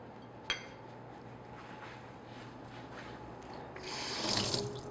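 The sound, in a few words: water running from a tap while washing hands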